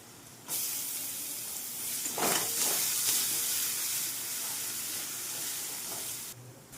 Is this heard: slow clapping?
no